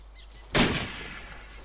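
A single sharp gunshot from a WWII resistance video game cracks close and loud, then decays over about a second against a quiet background.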